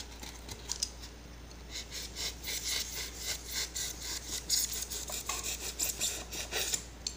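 Craft knife drawn slowly through a cut-out piece for a 3D car wreath decoration, making quiet, close scraping and rasping strokes in an uneven rhythm of short bursts with brief pauses.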